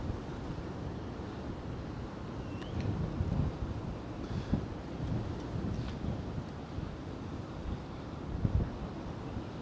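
Strong gusts buffet a camera microphone at a Manhattan waterfront park pier, producing a continuous loud low rumble with surging, uneven bursts throughout and no clear voices.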